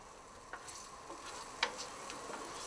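Food sizzles faintly in melted margarine in a pan, a soft continuous hiss broken by light spatula taps and small pops.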